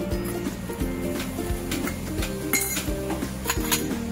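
Dabeli masala frying in oil in a metal pan, with a spoon clinking and scraping against the pan in quick, repeated strokes, close and fairly loud, no talking.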